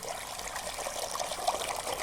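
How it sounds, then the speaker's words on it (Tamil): Water pours steadily into a tub holding a small layer of soil, a close, continuous trickling splash with slight surges, no voices. "இந்த டப்பு நிறைய நீங்க தண்ணி ஊத்திக்கலாம்."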